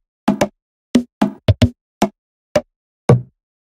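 Dry Amapiano percussion loop programmed in FL Studio, playing with no effects: eight sharp, woody knock-like hits in an uneven syncopated pattern, the last one slightly longer, with silence between hits.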